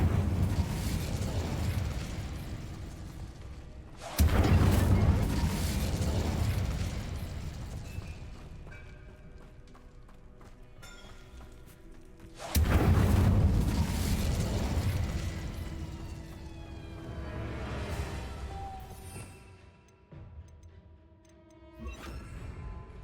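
Casting the Incendio fire spell in Hogwarts Legacy sets off two loud whooshing bursts of flame, each followed by a long crackling roar that fades, with small mechanical clicks and ticks between them.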